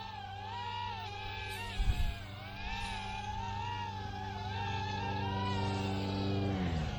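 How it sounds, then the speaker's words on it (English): An Eachine E61 mini drone spools up for takeoff, a steady high-pitched motor whine that builds slightly as the throttle rises, with a brief handling clatter near the start. "We're ready to take off by just raising our throttle ever so slightly"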